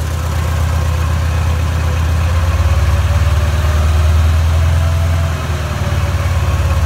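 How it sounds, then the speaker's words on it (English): A tractor idles while driving a sprayer pump, a loud, steady low diesel throb with a constant mechanical drone, dipping slightly near the end, with no talking. "I'm basically idling this tractor, and I'm making about 15 now"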